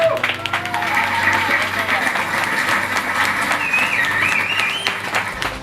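Wedding guests applaud a newly registered couple in a steady, loud burst of clapping, with music and voices running underneath throughout.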